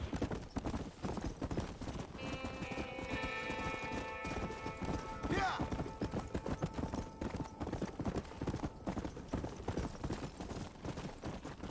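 Galloping horse hooves from Red Dead Redemption on PS5 keep up a steady, rapid clip-clop throughout, with a horse's whinny partway through and faint game ambience underneath.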